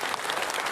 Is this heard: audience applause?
yes